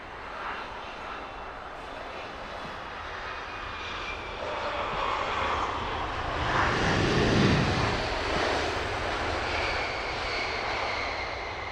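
An Airbus A380 arrives at Heathrow Airport overnight, its engines a broad, building roar that swells toward a loud peak midway and then stays strong as it passes close by. No voices are heard.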